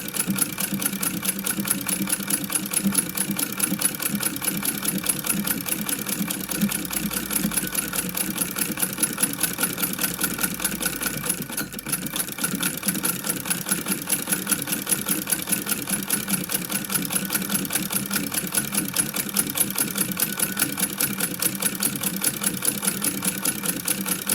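A Singer sewing machine fitted with a buttonhole attachment stitches fabric in a fast, steady mechanical chatter, close and continuous with a brief slowdown midway and no voices.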